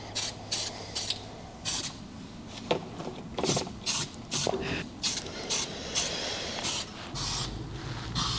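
Short spray-can bursts hiss in an irregular rhythm while the rear subframe of an E46 car is being painted. The bursts are fairly quiet against a low background rumble, and no one speaks.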